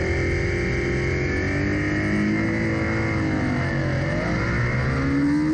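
A race car accelerates off the start at Blackhawk Farms in an ASRA CCS race, a loud, sustained engine roar rising in pitch with other cars revving close by and no talk.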